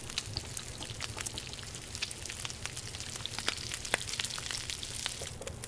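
Food cooking over a campfire in the survival game The Long Dark, a steady close sizzle with dense crackles and sharp pops scattered throughout, no voices over it.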